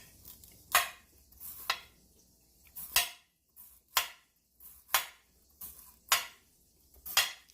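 Sharp new kitchen knives cut through food on a board in a series of about ten crisp, separate chops at an uneven rhythm, close and fairly quiet, with a faint sizzle underneath.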